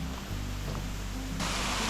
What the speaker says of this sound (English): Down here is where the waterfall flows into the Wellington.